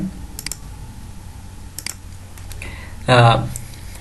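Fingers tap out an IP address on a computer keyboard in short clustered clicks, ending in a louder burst of keystrokes, with a faint voice in the background.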